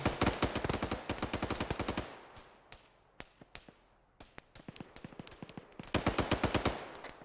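Gunfire in the ARMA 3 military video game: rapid automatic bursts of sharp cracks, loud and close, separated by a lull of sparser single shots before another dense volley.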